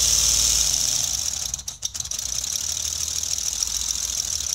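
A small engine running during its run-in period, a steady high-pitched buzzing drone that dips briefly in the middle and then continues evenly.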